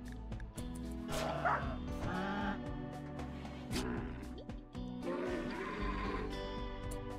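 A dog barks repeatedly in the video game Rimworld, a run of yips and barks layered over busy game sounds and music.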